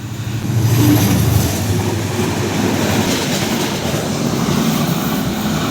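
A train rushes through Korotia railway station in Tangail, a loud, steady rumble and roar of wheels and carriages close by, swelling in the first second and then holding as the cars pass.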